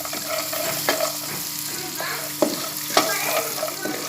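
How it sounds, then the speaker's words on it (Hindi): Panjiri ingredients fry in a spoonful of ghee, a soft continuous sizzle with a few sharp spoon taps and scrapes against the pan, close and unaccompanied by speech. "ये 1 चम्मच घी में इनको थोड़ा सा फ्राई करना है।"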